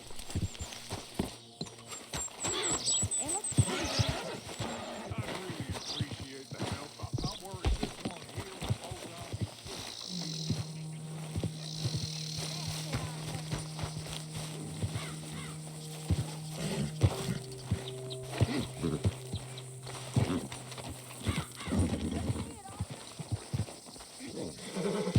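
Horse hooves clip-clopping in the video game Red Dead Redemption 2, a run of uneven hoof knocks amid game sounds, with talking voices and a few sustained tones over it.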